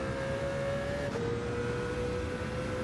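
Mercedes CLK race car engine in Gran Turismo 7 on Sardegna Road A, holding a steady high drone with a brief gear-change dip partway through, loud and alone.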